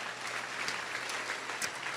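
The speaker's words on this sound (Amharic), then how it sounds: "አጨብጭቡላት፣ አጨብጭቡላት።" A church congregation applauds a woman, a dense, steady wash of many hands clapping at moderate volume for about two seconds, with no voices above it.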